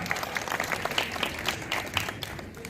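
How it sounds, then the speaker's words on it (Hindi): Steady crowd applause from a seated public audience welcoming a guest speaker at an Indian political campaign gathering, dense and sustained clapping throughout with no voices over it. "जोरदार तालियों से स्वागत"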